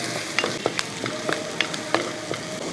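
Onions and curry leaves sautéing in a pan for a potato dish, with a steady low sizzle broken by repeated sharp scrapes and taps of a spoon stirring, close and fairly quiet, no talking.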